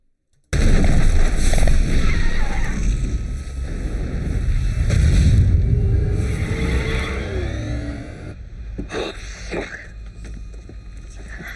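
A loud, sustained rumbling blast with roaring wind-like noise fills the scene after a rocket explodes, staying dense and heavy before thinning out and leaving scattered debris-like crackles near the end.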